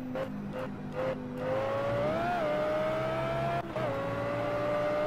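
Car engine in the Project CARS racing game, a steady rising and falling tone as the car accelerates and shifts gears, loud and continuous with brief dips around each shift.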